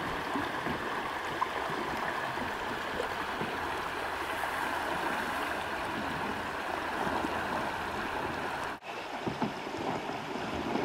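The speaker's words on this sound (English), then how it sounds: "James trying to go through some rapids" River rapids on the Independence River around a kayak, a steady rushing, splashing wash of water close by, with a brief dip near the end and no talk.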